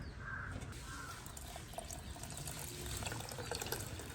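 Water pours into a pot of sambar ingredients, a faint, continuous trickle and splash lasting a few seconds in a quiet kitchen.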